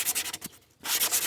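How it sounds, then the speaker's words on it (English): A small wooden crankbait fishing lure being shaped by hand with sandpaper, brisk close rasping strokes with a short pause midway, loud and alone. "I just sanded them until I got the shape that I wanted, with no carving or anything"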